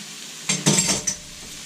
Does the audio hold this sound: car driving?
no